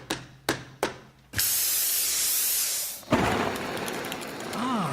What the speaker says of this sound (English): But this ain't getting my tree sprayed.